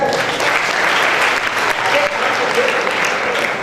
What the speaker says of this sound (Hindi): तालियां बजा दो, है ना?